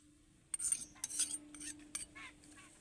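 A spoon clinks and scrapes against a bowl while stirring coconut-style chutney just topped with hot oil tempering of curry leaves, a few quick close taps followed by softer scraping strokes, quiet over low background hum.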